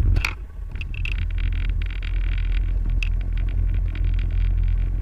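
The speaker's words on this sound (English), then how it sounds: "All right, engine is started." A paramotor engine idles after starting, a steady low rumble with wind buffeting the microphone and a few brief clicks near the start.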